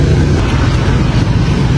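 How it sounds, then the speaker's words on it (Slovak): A rented motorbike's engine runs in Chiang Rai, northern Thailand, producing a loud, close, steady low rumble with no pauses. "To bude naša motorka."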